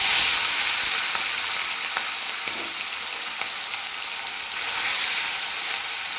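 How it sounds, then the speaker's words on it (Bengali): Small mourala fish frying in hot oil in a wok, a loud, steady, dense sizzle running throughout with faint scraping ticks, no voices. "দেখো কড়াইতে তেল দিয়ে দিয়েছি, তেলটা কিন্তু গরম হয়ে গেছে। এবার আমি মাছগুলোকে ভেজে নেব।"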